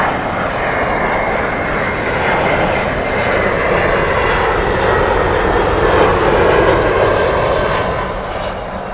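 A Finnair airliner approaching runway 27L at London Heathrow roars past, a loud, continuous engine rumble with a broad rushing hiss that holds steady for the full stretch.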